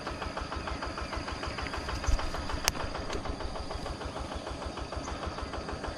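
A farmers' motorized water pump drawing irrigation water runs at a steady idle, a continuous mid-range engine chug with a faint knocking rhythm, alone and fairly close in a rural village morning.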